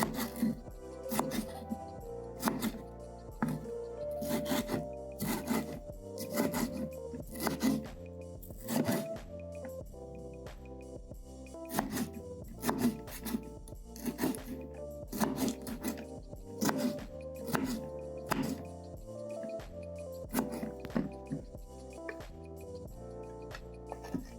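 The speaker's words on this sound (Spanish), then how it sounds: "Este pimiento morrón contiene una buena cantidad de potasio. Vamos a cortar en cuadritos." A kitchen knife repeatedly chops a red bell pepper into small squares, giving a steady series of crisp, close knocks and scrapes against the board with no talking.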